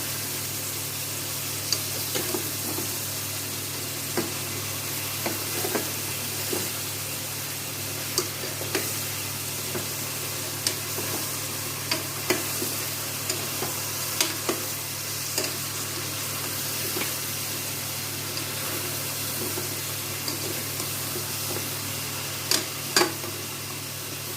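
Mutton pieces fry and get stirred in a pan as the meat browns, giving a steady soft sizzle with scattered clinks and scrapes of the spoon throughout, with no voices.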